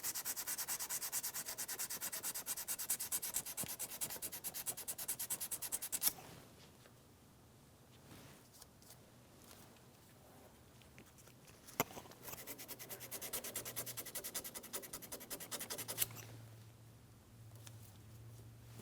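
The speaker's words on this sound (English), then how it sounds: "I'm going to be using a piece of fine sandpaper to sand this down." Fine sandpaper rubs back and forth on a corroded wiring harness connector on a 2007-2014 GMC Sierra 2500 HD 6.0L V8, a close, steady scratchy hiss that fades mid-way and then resumes in rapid strokes, with no voices.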